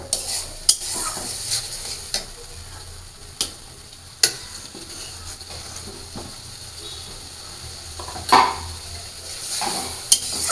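Vegetables are stirred into a dried fish masala in a pan, with sharp spatula clinks and scrapes scattered across the clip over a steady, close sizzle of frying oil.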